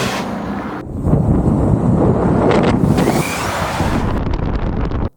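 An MG4 XPower electric car launches hard from 0 to 60, a loud roar of wind and road rush building over a few seconds with a faint rising electric whine, then cutting off abruptly.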